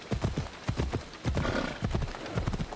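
Horse hooves clip-clop in Assassin's Creed Odyssey, a quick, steady galloping rhythm of close, distinct hoof strikes with game ambience underneath.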